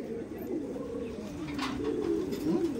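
Andhra Madrasi pigeons coo softly and repeatedly nearby at a loft, low warbling calls rising and falling over a quiet background.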